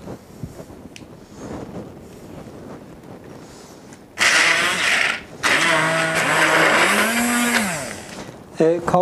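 A blender whirs loudly as it purees hummus ingredients with added water, starting abruptly after quieter handling sounds, cutting out briefly, then running again with the motor pitch shifting as the mix loosens.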